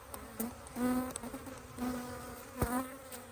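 Honeybees buzzing around an active hive during a March inspection, a steady close hum with individual bees droning past the microphone and one louder swooping pass near the end.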